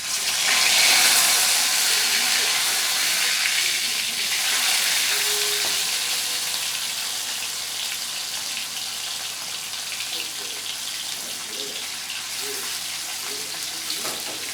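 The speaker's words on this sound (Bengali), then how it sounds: "তেল গরম হয়ে গেছে, মাছ যাতে লেগে না যায় সেজন্য আমি একটু লবণ দিয়ে দিলাম। এইবার আমি দেব নুন হলুদ দিয়ে মাখিয়ে রাখা রুই মাছ।" Rohu fish coated in salt and turmeric frying in hot oil, a continuous loud sizzle and crackle that is strongest at the start and settles into a steady bubbling hiss, with no talking.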